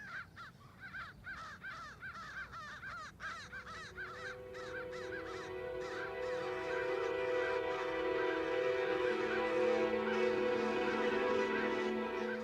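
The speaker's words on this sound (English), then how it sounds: "a great horn is being mobbed by a flock of crows" A flock of crows mobbing a great horned owl, with loud, repeated harsh caws in quick bursts that overlap, later fading under a rising sustained tonal drone.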